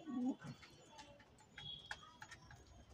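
Low, soft pigeon cooing near the start, followed by faint scattered bird sounds and light background noise, at a pigeon keeper's loft in Bhopal.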